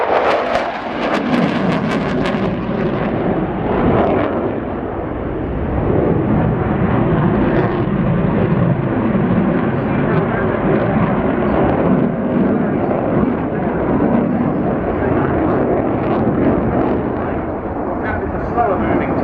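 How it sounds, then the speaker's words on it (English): Two Eurofighter Typhoon jets of the Austrian air force accelerating on full afterburner at an air display, making a loud, sustained, rumbling roar with a narrator talking over it. "Both aircraft accelerating with full reheat."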